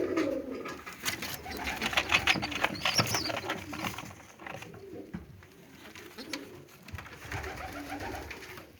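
Young Budapest pigeons coo in soft, repeated rolling calls, fairly close, over a busy background of rustling and light tapping.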